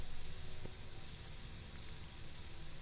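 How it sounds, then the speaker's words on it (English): Heavy rain in the video game New World, a dense, steady hiss of downpour filling the scene close and loud throughout, with no voices. "this rain, it's coming down hard today"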